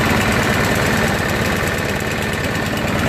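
A Briggs engine on a Murray 6HP walk-behind push lawnmower runs loud and close at a steady, somewhat slow idle, with a continuous rough chugging and vibration.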